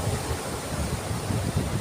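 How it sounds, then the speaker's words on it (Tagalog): Large surf driven by strong wind breaks along the Burias island shore, a loud continuous wash of crashing water mixed with gusty wind rumble on the microphone, with no voices. "Para sa amin kapag ito kalaki yung mga alon, malalaki na yan."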